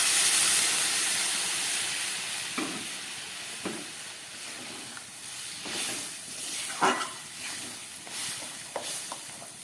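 Warm water goes into a pan of frying jackfruit and potatoes, producing a loud hiss and sizzle that slowly settles, with occasional soft clinks and stirring sounds throughout.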